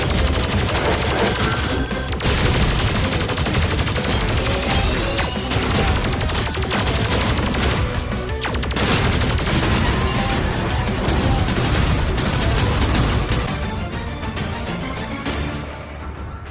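Grenade blasts and rapid gunfire fill the video game Terminator 2D: No Fate, dense continuous bursts of shots and crashes mixed with game music and beeps, loud throughout and easing slightly near the end.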